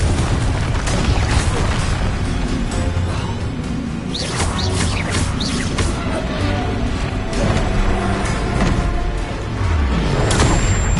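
Spell-casting blasts and booms from the video game Hogwarts Legacy on PS5 fill a dense, loud stretch of repeated bursts and crackles, with little talk.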